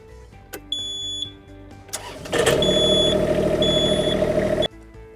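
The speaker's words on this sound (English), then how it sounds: "now that we've bled the system, we're ready to start the engine" After an oil change, a KYMRON XH26D engine is cranked and catches, settling into a loud steady run for a couple of seconds before shutting off, with a high warning beep repeating throughout.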